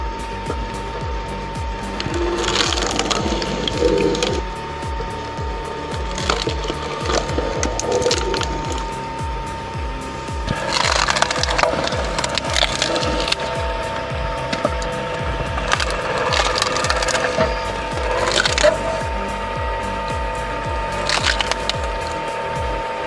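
A weathered 7-kilowatt log splitter working through twisted birch firewood, with loud cracking and splintering bursts that repeat every few seconds over a continuous mechanical drone, close by.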